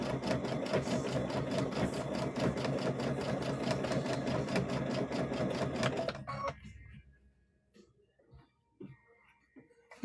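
A sewing machine stitches a trick-or-treat bag with a steady, loud, fast mechanical whir that stops abruptly after about six seconds, leaving faint clicks and handling sounds.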